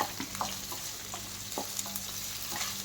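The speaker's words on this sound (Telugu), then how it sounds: "ఒక 2 పచ్చిమిర్చీలను కూడా వేసి వేయించాలి" Green chilies fry in oil for spicy tomato rice, a continuous close sizzle with light, irregular taps and pops of stirring, no voices.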